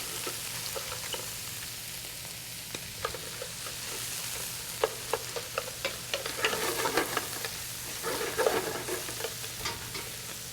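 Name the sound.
lobster pieces searing in a pot for lobster bisque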